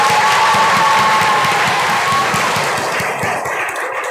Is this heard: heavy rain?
no